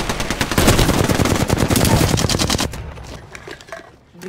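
Rapid automatic gunfire in the Apex Legends video game rattles loudly in a sustained burst for under three seconds, then breaks off into scattered quieter shots and a fading tail.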